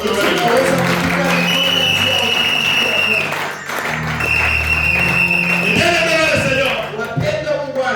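A church congregation at a Sunday service applauds loudly and steadily, the dense clapping joined by cheering voices and sustained tones from music under the crowd.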